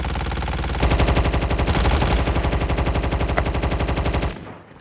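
Rapid automatic gunfire in a Call of Duty Battle Royale match, a loud, dense burst of closely spaced shots that runs steadily for about three and a half seconds before cutting off into a fading tail.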